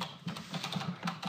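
Quick typing on a computer keyboard, a rapid run of light, close clicks and taps over about a second, with no voices.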